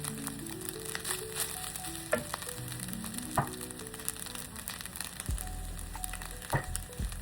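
Fried rice with carrot sizzles in a pan while being stir-fried, a steady close frying crackle broken by scraping and clinking as a utensil tosses the rice.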